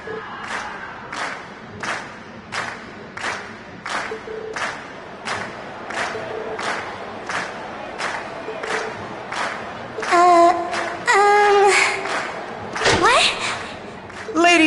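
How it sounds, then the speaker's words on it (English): Rhythmic crowd at a concert in Trails of Cold Steel, chanting and clapping in a steady repeated beat at Class 7's performance, then breaking into louder cheers and whoops near the end; loud and close. "we've heard your cheers loud and clear"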